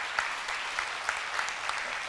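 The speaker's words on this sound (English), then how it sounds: "that's a round of applause" A church congregation applauds with steady, dense clapping for about two seconds, heard from within the room at moderate loudness.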